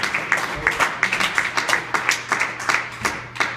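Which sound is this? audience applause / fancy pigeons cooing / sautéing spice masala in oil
audience applause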